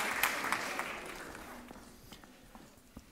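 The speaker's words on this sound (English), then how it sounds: "Can we all have a big round of applause to thank him" Audience applause at a science-talk competition event, a broad crowd clapping that starts full and gradually thins and fades over a few seconds, with a few last isolated claps at the end.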